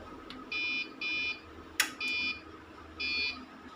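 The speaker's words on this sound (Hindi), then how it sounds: "इसलिए बीप साउंड करेगा।" An online 3 kVA UPS running on mains power without its battery connected beeps in short repeated electronic tones, four pulses with a sharp click between them, fairly quiet against a low hum.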